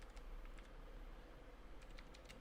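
Steady typing of code on a computer keyboard, rapid light key clicks in an uneven rhythm, quiet and continuous over a low background hum, with no voice.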